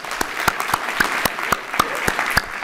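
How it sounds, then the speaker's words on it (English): Applause from a small group, steady clapping with a few sharper claps standing out, fairly close and without other sound. "Give them a round of applause."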